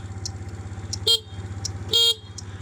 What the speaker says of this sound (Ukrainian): бібіка також працює